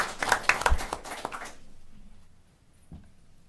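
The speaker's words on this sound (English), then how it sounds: "I'm going to take a point of personal privilege and applaud you again." Audience at a board of education meeting claps in a short burst of sharp, close hand claps that fades out after about a second and a half, leaving near silence.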